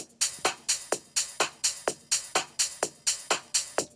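Percussion loop of crisp, bright hits in an even, steady pulse about four per second, quiet and alone, locked tightly in time.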